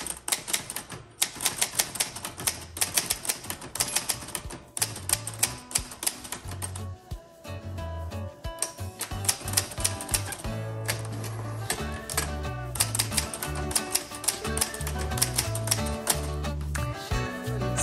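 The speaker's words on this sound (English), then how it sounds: "I'm going to type a couple of lines for you and then we'll sign off." Typing on a 1961 Underwood-Olivetti Studio 44 manual typewriter: a close, crisp run of key strikes in uneven bursts, with carriage movement, bell dings and short pauses between lines.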